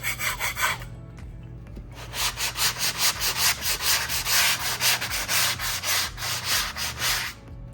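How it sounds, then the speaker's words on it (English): A sanding pad is worked by hand over a drywall patch on sheetrock, giving a loud, close, steady run of rhythmic scraping strokes, a short pause near the start, then continuous back-and-forth rubbing until the end, with no talking. "then we'll take the sanding pad, lightly touch it up"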